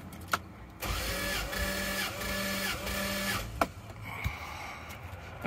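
A Toyota Land Cruiser's 1FZ-FE engine cranks over on the starter during a compression test, a rhythmic whirring chug lasting a few seconds between sharp clicks and clunks, close and fairly quiet.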